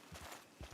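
A horse's hooves clip-clop on the ground in the video game Red Dead Online, four soft, quick thuds in a brief gallop-like pattern, faint and alone.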